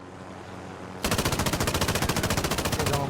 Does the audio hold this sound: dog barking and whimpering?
no